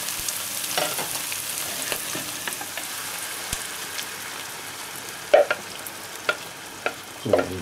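Onions, bacon and garlic sizzle and fry in a pan as cream is poured in, a steady crackling hiss with scattered spatters and a few louder stirring clicks near the end.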